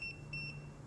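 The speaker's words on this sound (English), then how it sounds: "You test it, it's gonna beep." A multimeter continuity test beeps in three short high-pitched electronic tones, evenly spaced and close, over a faint low hum.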